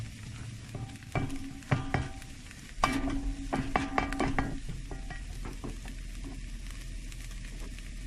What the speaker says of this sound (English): So we're gonna add our diced green peppers to the mix here.